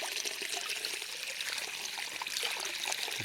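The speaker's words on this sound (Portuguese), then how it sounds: "Graças a Deus é uma nascente muito pura." Water from a clear natural spring trickles and gurgles steadily and close by, a continuous bright splashing with no voices over it.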